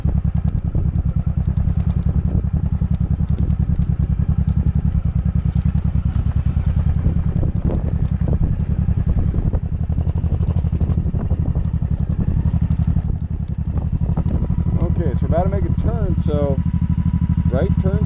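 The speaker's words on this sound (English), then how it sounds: "We're going to release the clutch and give it just a bit of gas." A motorcycle engine chugs at low idle and pulls away slowly with a steady low rumble and some clatter, while a person talks over it throughout.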